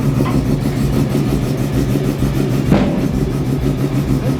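Nissan R32 GT-R race car with a full dry carbon body, its engine running loud and close with a steady, rumbling drone throughout and one brief blip partway through, with no talk over it.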